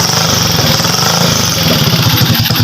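A motorcycle engine with its battery disconnected runs loud and steady, a close, continuous mechanical clatter with a rapid pulsing beat throughout.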